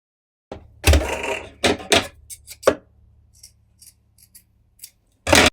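Scissors snip through fabric while ponte pants are being sewn, giving a few sharp close cuts in quick succession followed by lighter scattered clicks of the blades.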